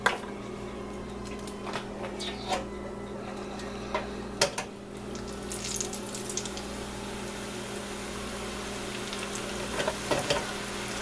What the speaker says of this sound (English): Now these won't take long to fry.